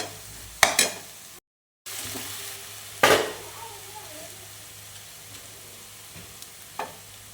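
Two green chillies frying in a hot pan, with a constant sizzle broken by a few loud scrapes and knocks of a spoon stirring against the metal.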